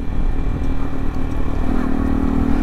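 A Yamaha R15M motorcycle rides along a street at a steady speed, its engine giving a constant mid-pitched drone with road and wind noise and no clear revving.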